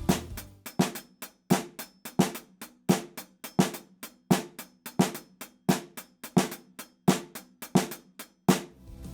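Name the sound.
drums playing five-against-two polyrhythm at fast tempo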